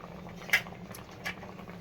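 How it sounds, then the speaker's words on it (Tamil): Quiet bubbling from a pot of vegetarian kothu curry kuzhambu on the boil, with a couple of soft pops breaking through a low steady hiss. "பாருங்க கொதிக்குது"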